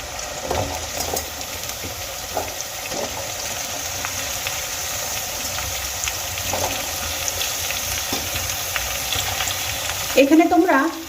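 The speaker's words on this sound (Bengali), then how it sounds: "পেঁয়াজ আর আদা আমি আরও কিছুক্ষণ ভেজে নিয়েছি এবার আমি এর মধ্যে দিয়ে দেব লম্বা লম্বা করে কেটে রাখা আলু" Long-cut potato strips fry in oil with onion and ginger for a green-tomato fish curry, giving a steady close sizzle with occasional utensil taps and a short clatter near the end.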